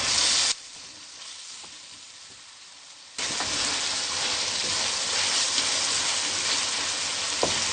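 Tomatoes for butter chicken fry in a pan with a loud, dense sizzle. The sound drops to a softer hiss for a few seconds, then surges back strong and keeps going without any talk.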